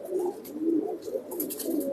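Pigeons, racing birds in a loft, coo repeatedly in soft low rolling phrases, close and steady, with no voices over them.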